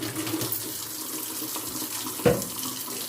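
A kitchen tap runs in a steady, close stream, with a soft splash or clink partway through and no talk over it.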